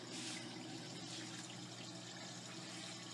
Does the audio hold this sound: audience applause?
no